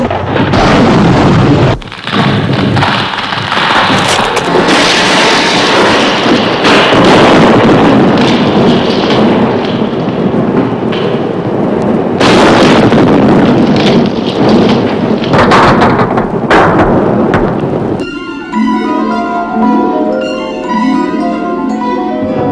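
A rocket-blast effect for an escape capsule being fired roars as a loud, sustained broadband rush for most of the stretch, then cuts to music near the end.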